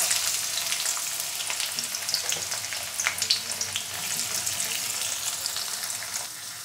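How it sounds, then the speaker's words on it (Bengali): Sliced onions frying to golden in white oil in a kadai, a steady dense hiss of sizzling with small crackles and pops throughout, close and continuous, no talking. "পেঁয়াজগুলো দেখুন এবার একটু সোনালি করে ভাজা হয়ে গেছে"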